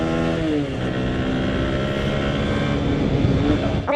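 A Suzuki V-Strom 160 touring motorcycle runs on the open road, its engine droning steadily and close with harmonic tones that shift as the rider changes speed, under continuous wind noise.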